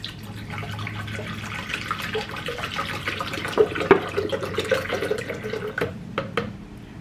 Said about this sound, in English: I'm going to pour the Fiji water inside.